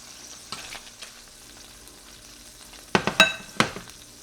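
Meat browning in oil in a casserole pan: a faint, steady sizzle close by, then a cluster of sharper crackles and pops near the end as the pieces are moved.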